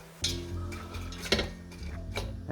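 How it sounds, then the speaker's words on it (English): Onions cooking in melted fat in a pot are stirred with a utensil, giving a few close metallic scrapes and clinks against the pot over a low, steady background. "we're gonna put the onions on to cook. We give a good mix."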